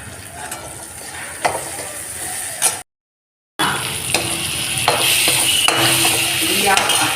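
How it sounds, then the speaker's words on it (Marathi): Tomato, spices and salt sautéed in a pan for Nagpur-style tomato besan, steady close sizzle with intermittent spoon clinks and scrapes against the pan, briefly cut to silence partway through. "मीठ हे सगळं घालून घेतल्यावर एकदा परत परतून घ्यायचं"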